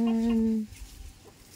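A chicken on a farm in the Philippine province gives a short, tonal cluck-like call up close, then fades into quiet low background noise.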